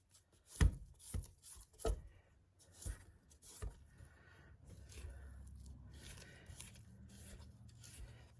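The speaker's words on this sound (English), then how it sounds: "Scrape our bowl." A spatula scrapes pineapple cookie dough from the sides of a mixing bowl. Several close, soft scrapes and thumps come in short bursts, then a quieter rubbing texture follows.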